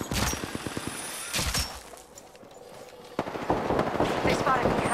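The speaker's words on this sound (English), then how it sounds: "They spotted me. I'm taking shots." Loud automatic gunfire in the battle royale game Apex Legends, Peacekeeper in play: rapid close bursts at the start, a quieter lull, then heavy sustained shooting again, with voices talking over it.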